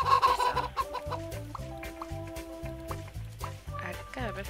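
Cartoonish chickens cluck in a farm video game during a hurricane-season level, short repeated clucks in a quick rhythm over background game music and effects.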